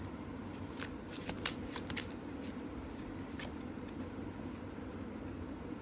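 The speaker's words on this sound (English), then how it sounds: "so I'll draw some more cards on top of these cards" Tarot cards are drawn and laid on top of other cards, giving a continuous papery shuffling and sliding with brief crisp flicks over a low background hum.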